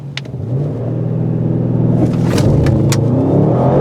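An Audi RS7 Performance launches hard down an open stretch of road, its engine rising from a deep rumble into a sustained, loud roar of acceleration with no talk.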